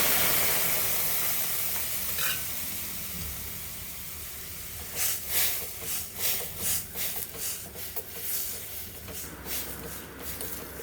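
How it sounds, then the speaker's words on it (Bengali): Matar dal poured into hot mustard oil tempered with whole cumin, bay leaf and dried red chilli: a steady broad sizzle and hiss, then a burst of sharper crackling bursts from midway as the lentils hit the oil, close and fairly quiet. "ডালগুলো ঢেলে দেব।"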